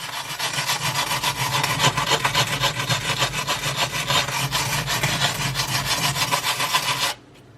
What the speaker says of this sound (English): you get the pumice stone a little wet, and then you can gently scrub